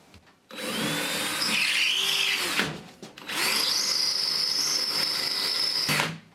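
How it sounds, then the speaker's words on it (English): A power drill bores through ceiling drywall with a regular drill bit beside a recessed can light, whining loudly and steadily in two long bursts separated by a short pause, with no talking. "So I'm just gonna drill a hole and go to the outside with a regular drill bit."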